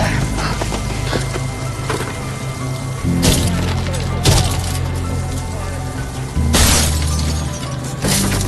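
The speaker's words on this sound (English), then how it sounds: "The captain pulled out the big hammer." A big hammer smashes the glass window of a truck, with several loud, sharp impacts and bursts of shattering breaking through a steady low rumble of engines or machinery.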